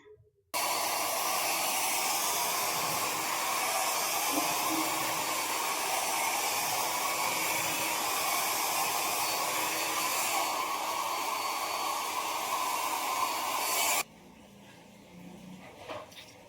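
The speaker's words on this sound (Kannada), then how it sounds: "ಫಸ್ಟ್ ಹೇರ್ ಡ್ರೈ ಮಾಡ್ಕೊಳ್ಳೋಣ" A hair dryer blows on hair indoors, a steady loud whooshing roar held for about thirteen seconds before it clicks off, leaving faint room noise.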